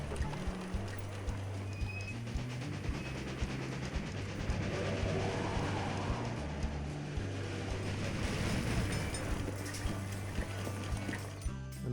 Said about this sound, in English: a mainly passenger train this time, with a bit of mail.